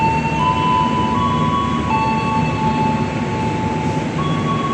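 Steady rumble and rattle of economy-class passenger rail cars on the Jaka Tingkir train rolling along, with a high tonal hum running throughout and no voices.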